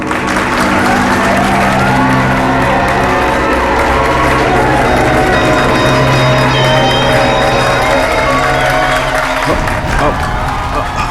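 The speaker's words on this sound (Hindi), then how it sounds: "तालियां!" An audience at a staged show breaks into loud, sustained applause and cheering that fills the whole stretch, with crowd voices mixed in before it suddenly drops near the end.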